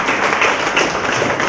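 Audience at a Lions Club office-bearers installation ceremony claps in a dense, continuous burst of applause filling the room.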